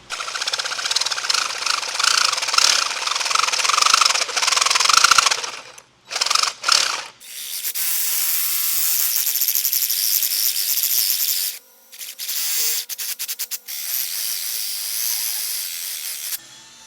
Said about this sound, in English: maybe even a hacksaw to get it close, and then maybe come back with the little file thing here.